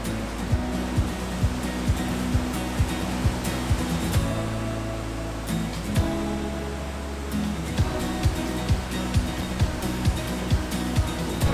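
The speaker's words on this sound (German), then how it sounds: "auf der anderen Seite wird es nochmal ein bisschen tösender, weil das Wasser so ein bisschen den Untergrund durchschießt" Clear water thunders through a gorge in northern Sweden, shooting through the rock bed in a loud, continuous rushing roar, with a steady rhythm of faint knocks running through it and no talk.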